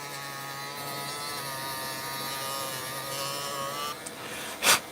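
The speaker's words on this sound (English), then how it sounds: "this Dremel light is an amazing tool" A Dremel rotary tool hums steadily with a high buzzing whine while grinding paper model parts, running continuously before switching off, followed by a brief sharp rub.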